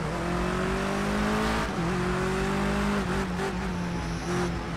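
Touring cars racing on the wet Bull Ring circuit in Project Cars 2, with a loud close engine drone shifting pitch through gears, a pack of other cars roaring around it and a brief tire hiss.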